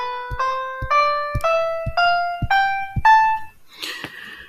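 A minor scale plays note by note on a melodic instrument, seven or eight evenly spaced tones stepping upward with a soft thump at each attack, close and clear, ending in a brief noisy rustle.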